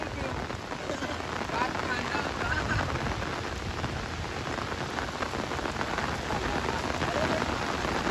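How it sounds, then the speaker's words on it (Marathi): Heavy monsoon rain pours without letup, a dense, steady roar of drops hammering surfaces at close range, with no breaks in the downpour across the whole stretch. "पाऊस तर 3 दिवस झालं लगातार कंटिन्यू पाऊस चालू आहे"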